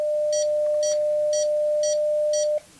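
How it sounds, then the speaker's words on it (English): A SOTABeams Go4Lo audible SWR indicator sounds a steady, clear single-pitch tone with a carrier applied, holding for about two and a half seconds before cutting off abruptly. "an audible indication of the SWR"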